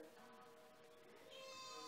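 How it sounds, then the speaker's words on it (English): A pet cat meows close by in one drawn-out, rising call that lasts nearly two seconds against a quiet room. "you have been meowing the entire time"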